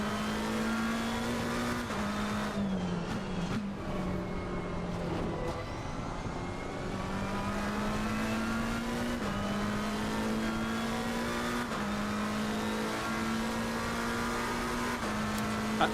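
A race car engine in a driving video game at Donington Park circuit holds a loud, steady drone, with short dips and gear shifts through the corners, and no one talking.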